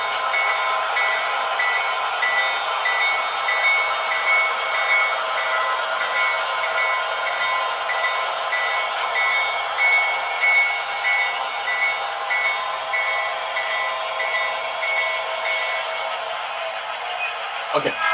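A model train is pulled along its track with more cars being added, making a steady, continuous rolling whir with faint clicking that runs throughout and stops abruptly at the end.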